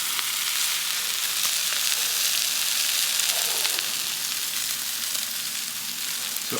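Vietnamese lemongrass-marinated meat sizzles steadily on a hot cooking surface, a loud dense crackling hiss that holds constant throughout with no talk.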